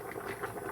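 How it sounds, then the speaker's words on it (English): Water boiling in a pot on a stove for cooking rice, a soft, steady bubbling and gentle popping at close range, faint and continuous. "the water is boiling."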